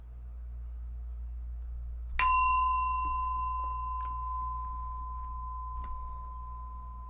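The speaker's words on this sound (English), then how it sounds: "So I'm going to ring the bell now." A meditation bell is struck once, ringing out clear and sustained, its tone slowly fading over several seconds above a low steady background hum.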